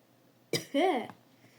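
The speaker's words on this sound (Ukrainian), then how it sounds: "Ого, щось закашився трохи" A single short cough, close and fairly loud, followed by a brief throat-clearing rasp, standing alone against a quiet background.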